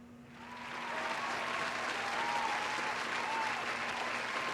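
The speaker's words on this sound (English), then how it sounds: "now they can hear the applause effect" Recorded applause sound effect played through a computer browser, a steady wash of clapping that swells within the first second and holds at moderate loudness throughout.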